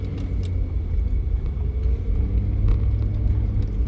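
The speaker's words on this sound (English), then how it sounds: "This is how my car sounds like." A Renault R11 car engine runs at close range, a steady low rumbling drone with an even mechanical hum and no talking.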